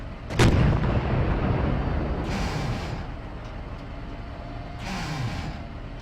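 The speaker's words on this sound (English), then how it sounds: "we're taking fire here." A heavy, booming impact strikes a tank in Steel Beasts, one sharp close hit followed by a long rumbling tail. Fainter whooshing shots and distant engine drone continue afterward, with almost no talk.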